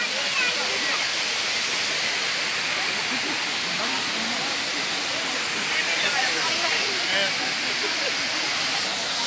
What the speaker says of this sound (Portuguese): Cachoeira é linda mesmo, viu?